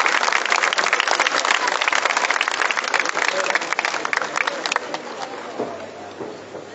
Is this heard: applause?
yes